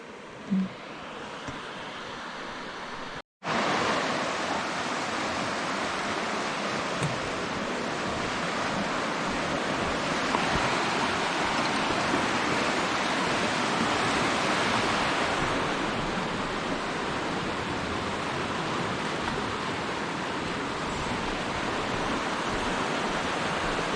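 Steady, dense roar of rushing water, like a waterfall close by, constant and loud, broken only by a brief bump near the start.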